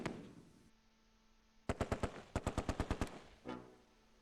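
Soldiers' gunfire in the Close Combat II war game: one shot, then a quick burst of rapid automatic fire, a pause, a longer clattering burst and a duller single report, fairly quiet with no voices.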